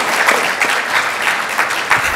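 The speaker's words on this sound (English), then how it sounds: "maybe one round of applause for this entire panel" Applause from a conference audience for a panel, a steady dense clapping throughout at moderate loudness, with no talk over it.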